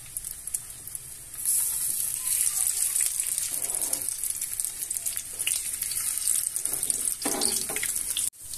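A hot dog goes into hot cooking oil over a low flame, giving a steady, fairly faint sizzle and hiss that runs throughout with a few brief clinks, and no talking.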